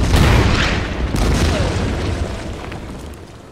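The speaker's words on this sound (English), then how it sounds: "We can actually bombard." An artillery bombardment in the Order of Battle Winter War strategy game lands as a loud, heavy boom that rumbles and slowly decays over several seconds.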